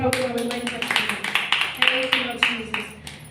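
A church congregation claps along during a healing service, with rhythmic clapping over music and a speaking or singing voice.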